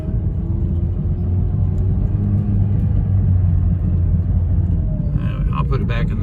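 An old car with worn gears and junk tires rumbles in a low, steady engine drone as it pulls back into a driveway, with a brief rattle near the end.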